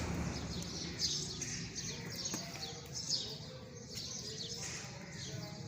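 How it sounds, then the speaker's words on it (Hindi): A pair of golden pigeons coo softly and repeatedly in the background, mixed with faint chirps and general room noise, with no talking. "असल में नज़ीर वाले जो गोल्डन कबूतर हैं ना,"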